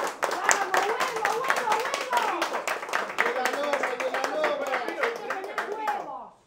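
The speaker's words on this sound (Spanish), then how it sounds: "¿No pueden hacer un aplauso por mí que es mi hijo?" An audience on a lively Argentine entertainment show claps together in a strong, fairly rhythmic burst, with voices and cheering mixed through the clapping before it cuts off sharply at the end.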